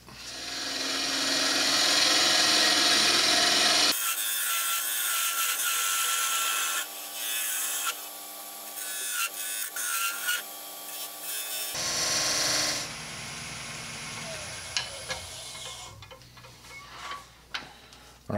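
Wooden vase blank spinning on a lathe as a tenon is cut, a close, steady rasping and scraping of the tool against wood that stops and starts in bursts, alone with no talk.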